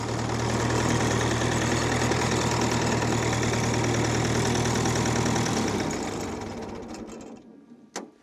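A Ferguson tractor engine runs close and loud with a harsh, steady, rapid mechanical clatter. It then winds down and stops over the last few seconds, ending with a brief knock.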